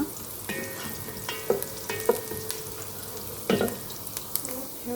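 A batch of food fries in a pan under a steady soft sizzle while a utensil stirs it, with a few scraping knocks against the metal at irregular intervals.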